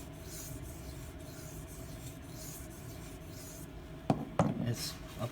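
A knife is drawn across a hard, dense 3K Sigma Select II sharpening stone in slow rhythmic scraping strokes, quiet and close, followed by a few sharper clacks and rubs near the end.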